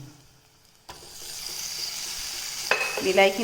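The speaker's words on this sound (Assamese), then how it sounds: "মই এতিয়া ধুনিয়াকৈ বিলাহীখিনি গলি যোৱালৈকে এইখিনি এইদৰে ভাজি থাকিম" Tomatoes frying with spices and salt in a pan, a near sizzle that starts abruptly after a quiet moment and swells, with a few sharp metallic clinks near the end.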